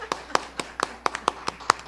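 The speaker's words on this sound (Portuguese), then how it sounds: "agora é hora de aplaudir antecipadamente Ana Arruda Calado" Applause from an event audience honoring Ana Arruda Callado, heard as a short run of distinct, evenly spaced hand claps, close and crisp, with no talking over them.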